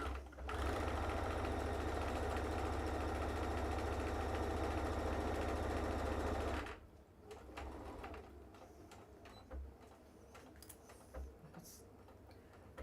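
A sewing machine stitches the two short sides of a fabric Christmas hat in one loud, steady run of about six seconds, then stops, leaving faint room noise and scattered small handling sounds.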